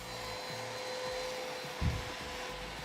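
A vacuum cleaner runs during a cleaning demonstration, a steady fairly quiet whirring motor hum with a brief low bump partway through.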